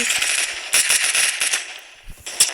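Video game gunfire from an M40 sniper rifle: a series of sharp, loud cracking shots with a crackling, firecracker-like edge, firing in quick bursts, dipping briefly before a final shot near the end.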